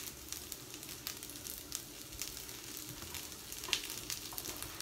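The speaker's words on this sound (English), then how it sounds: "It's starting to sizzle now." Steady crackling sizzle of food frying in a pan, with faint clinks of stirring and no voices.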